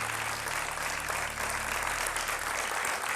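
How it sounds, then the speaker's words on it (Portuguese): Studio audience applauding a guest on a Portuguese talk show, a steady dense clatter of clapping that fills the whole stretch without pause. "um aplauso para ele"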